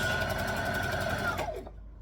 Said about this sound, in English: I am just going to back stitch just a little bit